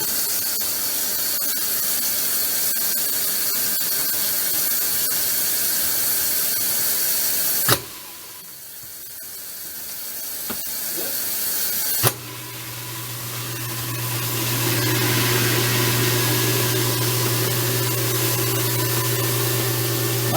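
A newly installed kitchen garbage disposal is switched on and runs. The noisy background cuts out abruptly, then the unit starts with a sharp onset and settles into a steady, close motor hum that grows slightly louder.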